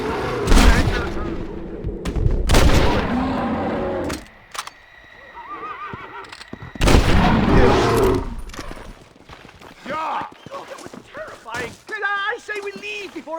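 Gunshots fired at a bear in Red Dead Redemption, loud bursts of gunfire mixed with horse whinnies and clip-clop, with voices talking between the shots.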